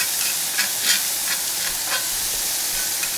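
Green pepper and chopped capers sizzle in a pan, a soft continuous frying hiss broken by a few brief scraping stirs, fairly close and without talk.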